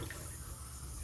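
Water runs through a sink line hooked up to a refrigerator, a soft steady trickling wash with low rumble underneath, continuous and fairly faint.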